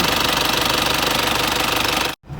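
A 1995 Isuzu TFR pickup engine runs close and loud with a dense, rhythmic pulsing idle, then cuts out sharply near the end before faint noise returns.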